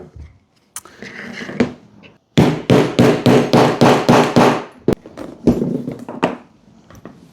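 A hole being hammered through two layers of a leather belt with a punch, a burst of about eight loud, evenly spaced strikes following a few lighter taps, close and sharp.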